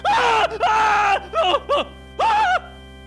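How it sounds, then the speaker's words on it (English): A man screams in shock and terror in a comedic murder-mystery audio skit, with several long, strained, wavering cries broken by short gaps, loud and close over a faint steady hum. "A man screams in shock and terror."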